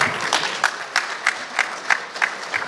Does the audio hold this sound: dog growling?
no